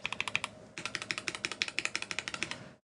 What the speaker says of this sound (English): this one overall still sounds deeper. I think that plate is making it thockier.